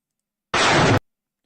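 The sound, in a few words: explosion in war footage from Ukraine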